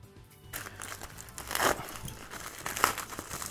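AliExpress parcel packaging is crinkled and torn open up close, a short burst of plastic rustling that rises into louder crackles and crunches.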